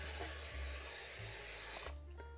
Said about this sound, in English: Pan's been sprayed.